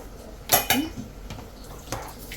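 Chicken kurma being stirred in a pot makes a few close metallic clinks and knocks of a spoon against the vessel, scattered over a quiet background with no talk.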